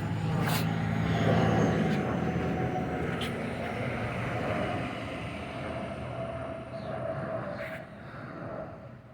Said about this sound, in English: There's a plane right above me.